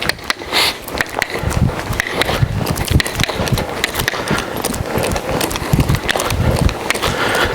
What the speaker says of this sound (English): he offered up this little bit of trot here